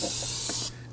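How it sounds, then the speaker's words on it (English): Spray solvent hisses steadily from an aerosol can around the brake fluid reservoir of a 2003-2014 Volvo XC90, one continuous close burst that cuts off near the end. "use some spray solvent"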